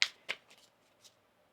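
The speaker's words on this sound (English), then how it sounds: "One more shuffle here." Tarot cards are shuffled in a few quick, crisp riffling bursts at close range, then the sound trails off into quiet.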